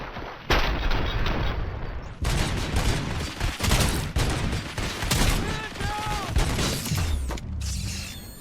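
Heavy gunfire rattles through a firefight in RoboCop Rogue City, rapid bursts and shots packed together with mechanical clanks and metallic ringing, loud and nearly continuous with some shouting voices mixed in.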